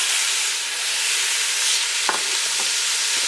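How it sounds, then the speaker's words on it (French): Harira soup simmers and sizzles in a pot with onions as a wooden spoon stirs it, a steady loud frying hiss with a couple of soft knocks from the spoon, no voices. "et là je viens donc mélanger avec ma cuillère en bois"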